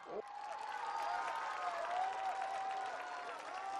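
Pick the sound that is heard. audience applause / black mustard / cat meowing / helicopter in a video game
audience applause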